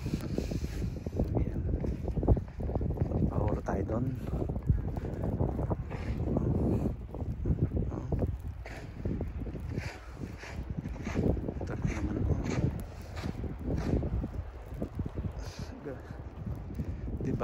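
Wind gusts roar and buffet the microphone during a night snowfall in Canada, a continuous rough rumble with irregular bursts throughout, while a person talks over it.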